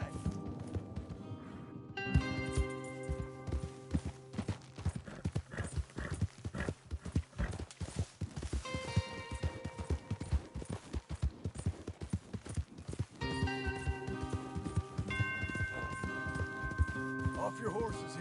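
Several horses gallop in Red Dead Redemption 2, their hooves clip-clopping in a dense, rapid rhythm with steady loudness across the stretch, mixed with game music and occasional talking.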